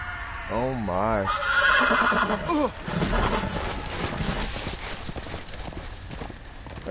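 Horse whinnying loudly in a fantasy role-playing game, followed by galloping hooves that fade as it runs off, with voices over parts of it.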